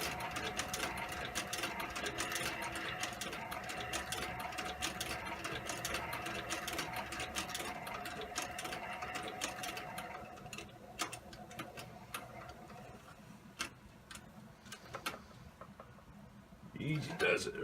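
A sewing machine runs steadily after being re-threaded, a continuous mechanical whir with faint ticking that eases off partway through, while a person talks quietly over it.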